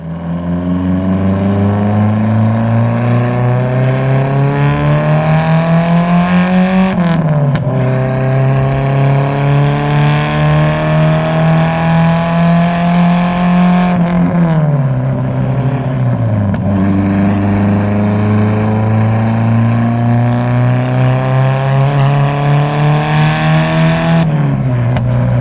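Nissan S14 with an SR engine, Silk Road manifold and straight-pipe exhaust drones loudly and steadily at close range, its raspy pitch climbing slowly and dropping sharply three times as revs are held and released.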